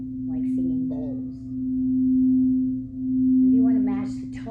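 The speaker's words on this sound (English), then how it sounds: "And if you want to match the tone of the bowls" A steady, pure ringing tone from singing bowls sustains throughout a yoga nidra sound session, holding evenly in the background while a soft voice speaks over it.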